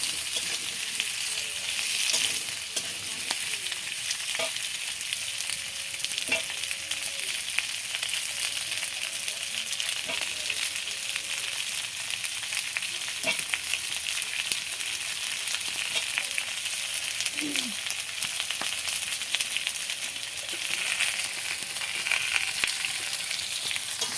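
Vegetables for a Bengali chorchori frying in a pan, a steady loud hiss of sizzling oil running throughout with faint occasional clicks and stirs.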